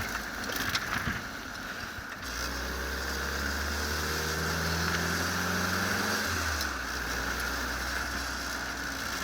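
A WW2 Willys jeep drives along, its engine note climbing through a gear with a brief shift and settling again under steady wind and road rumble.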